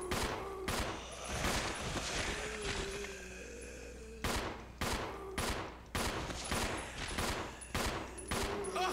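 Bursts of gunfire from the Resident Evil 0 video game ring out in loud, repeated volleys, some in rapid clusters and others spaced apart, over a steady game background with no speech.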